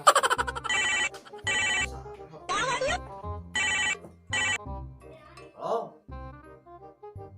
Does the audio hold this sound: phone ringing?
yes